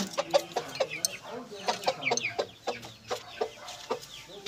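Aseel chickens cluck in a busy, irregular chorus of short calls, close and fairly loud, with scattered sharper squawks throughout.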